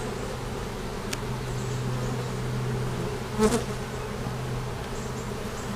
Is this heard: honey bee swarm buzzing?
yes